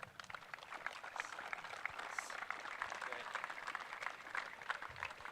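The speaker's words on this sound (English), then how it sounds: "let us give a big round of applause to all players" Applause for the players at a school cricket match between St. Benedict's College and Wesley College, a faint, dense patter of clapping from a distant crowd that holds steady throughout.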